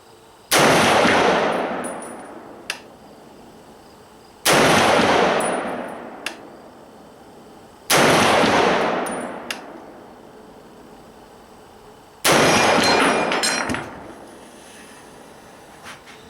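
Four loud M1 Garand rifle shots fired at a target range, spaced a few seconds apart, each a sharp crack trailing into a long rolling echo, with no talking.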